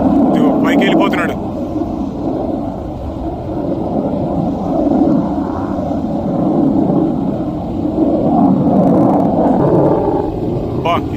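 A fighter jet making a slow demonstration pass at a US Air Force airshow in Phoenix produces a loud, continuous, rumbling engine roar that swells and holds for the whole stretch, with people talking nearby.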